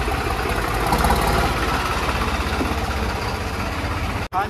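A tractor engine idles close by, a steady loud low rumble with an even throb that holds for several seconds before a brief dip near the end.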